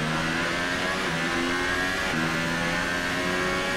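Formula 1 race car engines in F1 2018, at the Chinese Grand Prix in Shanghai, scream at high revs with a brief gear-shift dip midway, loud and sustained throughout without speech.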